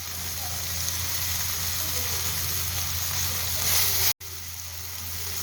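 Chopped onions and tomatoes sizzle as they sauté in a pan for Puthiyapla chicken, a steady loud frying hiss that cuts off abruptly near the end, with a voice talking over it.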